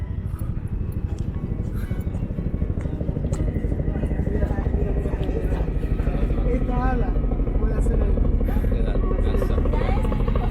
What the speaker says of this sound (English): Oh, there's another Chinook over there.